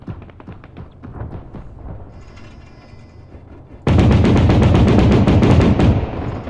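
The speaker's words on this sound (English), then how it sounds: "Here come the bombs." Bombing run in a combat video game, with heavy bomb impacts and explosions suddenly erupting loud and dense after a quieter stretch of scattered gunfire, a sustained rumbling barrage near the listener.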